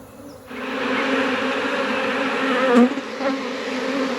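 A honeybee ground swarm hums steadily and loudly, fanning while being scooped into a hive, with a brief knock near the end.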